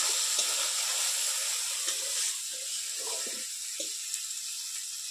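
Spice paste for chital fish muitha frying in oil, a soft continuous sizzle with scattered stirring clicks and scrapes, fading slightly partway through.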